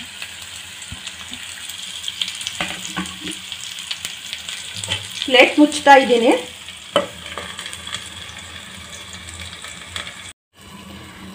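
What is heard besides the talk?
capsicum masala stuffing frying in oil in a pan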